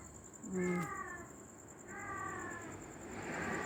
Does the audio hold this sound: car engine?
no